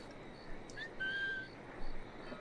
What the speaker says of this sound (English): he's not close enough to hear our whistle